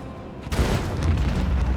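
Torpedo explosions in a space battle in the Rogue Trader video game: a loud, deep boom bursts in and rolls on as a dense rumbling barrage of blasts.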